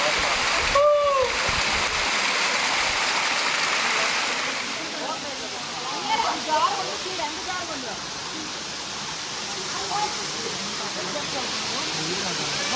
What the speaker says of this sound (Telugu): సో ఒక్కసారి మీరు వినండి ఈ వాటర్ ఫాల్స్ సౌండ్ ఎలా ఉందో.